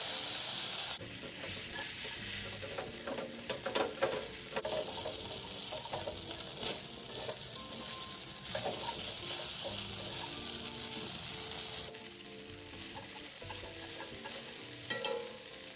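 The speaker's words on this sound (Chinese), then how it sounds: "拌炒过程中再加点清水" Rice noodles with fish sauce and a splash of water hiss and sizzle steadily in a hot pan under constant stirring and scraping, the frying loud and continuous throughout.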